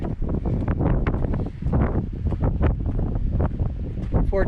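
Gusting wind buffets the microphone on a fogged-in climb up Round Bald from Carver's Gap on the Appalachian Trail, a loud rumbling rush with shifting gusts, while a voice is heard briefly.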